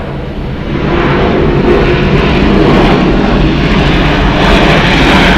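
A Delta Air Lines jet departing Atlanta Hartsfield-Jackson airport produces a heavy, sustained roar that swells in the first second and then stays loud and rumbling, with no voices over it.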